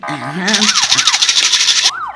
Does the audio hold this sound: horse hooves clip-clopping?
no